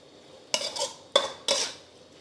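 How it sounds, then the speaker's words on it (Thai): Korat-style instant rice noodles stir-fried in oil in a pan, heard as three quick, close scraping and clattering strokes of a utensil against the pan, with no talk. "ผัดให้น้ำมันมันเคลือบเส้นนะครับ"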